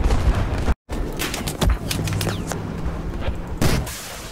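Rocket blasts from a LAW launcher in the tank game MBT, a burst of loud booms and gunfire-like cracks with a brief dropout, then a sharp blast near the end, all up close and alone.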